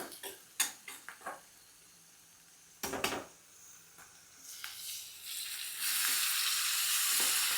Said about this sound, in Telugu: మంచిగా వేగుతున్నాయి కదా ఈ టైంలో మనం టమాటా ముక్కలు కూడా వేసేసుకుందాం